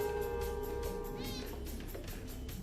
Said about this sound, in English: Black cat. That's not a good sign.